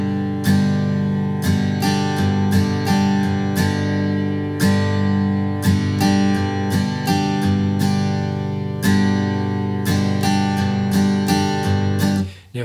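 A guitar plays a simple shuffle rhythm, alternating between the bottom strings and the top strings in a steady, loud, repeating chugging pattern that runs alone throughout before cutting off at the end.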